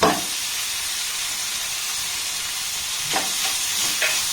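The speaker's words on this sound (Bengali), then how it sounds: "এবার পনিরটাকে একটু এই বাটারের সাথে নাড়াচাড়া করে নেব" Grated paneer, about 150 grams, stirred into melted butter in a pan for cauliflower paratha filling: a steady soft sizzle and hiss with a few brief scraping stirs near the end, no talking.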